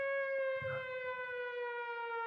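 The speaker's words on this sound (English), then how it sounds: "you will all be awoken around 5 a.m. by the sound of hurricane sirens" A steady, sustained hurricane warning siren wails with a pure unwavering tone, with a brief faint rustle underneath.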